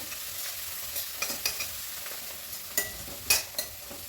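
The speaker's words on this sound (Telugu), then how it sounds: "మెంతి కూర కొంచెం నూనెలో మంచిగా ఇట్లా వేగనివ్వాలి" Fenugreek leaves and cabbage fry in oil in a close, steady sizzle while a spoon stirs them, giving several sharp scraping clicks. Turmeric has just been added. No one speaks.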